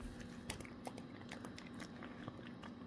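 A dog crunching and chewing treats, with irregular soft crunchy bites repeating close by over a steady low background hum.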